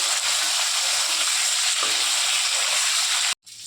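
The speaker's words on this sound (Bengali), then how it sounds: "টমেটোটা ভেজে নেবো আলুর সঙ্গে একটু।" Tomato and potatoes fry together in a pan with a steady, close sizzle that holds throughout, cutting out sharply for a moment near the end.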